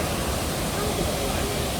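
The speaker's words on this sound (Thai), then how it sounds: "น้ำไหล" A steady, loud rush of flowing water at Paronella Park, Innisfail, Queensland, a dense unbroken hiss close by.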